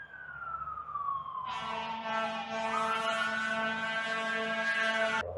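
A fire truck siren wails downward, then a loud, blaring horn-like siren cuts in and sounds steadily, fairly close, over traffic rumble.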